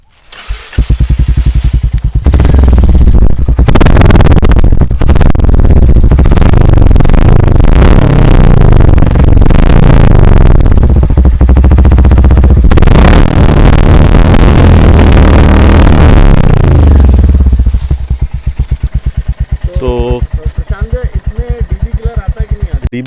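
A Royal Enfield Hunter 350 fitted with a Red Rooster exhaust and no dB killer fires up and revs hard, loud and close, with repeated throttle blips swelling and falling before it settles into a rough, popping idle.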